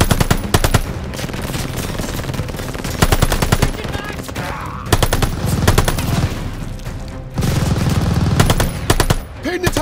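Machine-gun fire in the video game Call of Duty, loud rapid bursts repeating in several long strings with short gaps between them.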